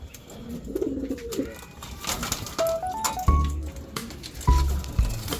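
Fancy pigeons, hens and cocks, coo softly inside a loft, a few low rolling calls mixed with rustling and light clatter nearby.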